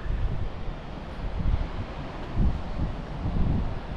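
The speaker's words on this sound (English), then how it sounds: "check out the waves" Waves breaking on the shore at Orange Beach mixed with steady wind buffeting the microphone, a continuous rushing wash with a few louder surges, no talking.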